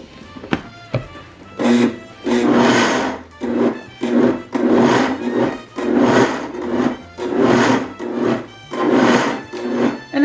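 A blender pulses raw cauliflower into rice in a home kitchen, with a series of short, loud, gritty whirring bursts repeating in a steady rhythm and brief pauses between them.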